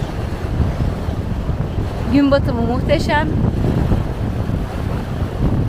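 A boat cruises at sea off Teos during a tuna fishing event, with wind buffeting and a constant rushing rumble of water and hull; a person speaks briefly in the middle.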